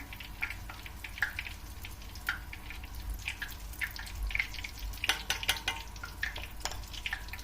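Döner dough sizzles in a home frying pan, a steady crackling fry broken by scattered pops and drips, close and fairly quiet, with no talking.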